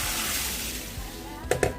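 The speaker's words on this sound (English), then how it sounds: "I will use this time to wash my rice" Running water in a kitchen sink while rice is washed, a steady close rush with two brief sharper splashes near the end.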